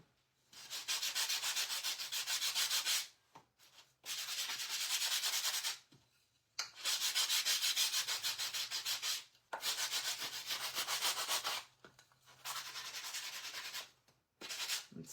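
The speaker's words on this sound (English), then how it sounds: "I'm going to do a really light sand, and then I'm going to switch to my 80 grit sandpaper." Sandpaper rubs back and forth over a wooden cutting board riser in a light sanding pass, coming in five long, loud, close strokes separated by brief pauses.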